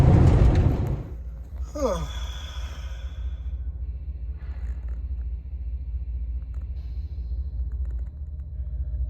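Trains pass near a truck sleeper pullout: a heavy low rumble fades from loud to a steady distant drone, with a brief squealing whoosh and a faint thin whine later.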